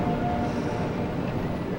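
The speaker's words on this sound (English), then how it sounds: "Big train, 3 engines." A big freight train pulled by three locomotives, heard as a steady, broad rumble with faint tonal hums running through it for the full moment.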